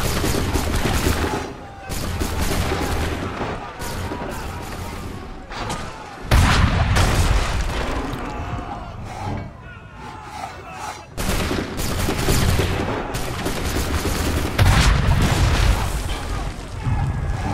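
Musket volleys and booming battlefield fire at the Battle of Monmouth in Assassin's Creed III Remastered, loud and continuous, with repeated crackling volleys, heavy thumps and a few brief lulls, plus faint voices.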